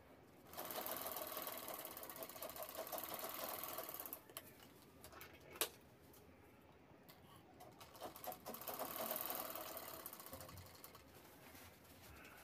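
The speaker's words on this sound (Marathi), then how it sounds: "त्यानंतर ते कोपरे आपल्याला शिवून घ्यायचे आहेत" A sewing machine stitches the corners of a cloth shopping bag in two close, steady bursts of rapid whirring, separated by a short pause with a few clicks.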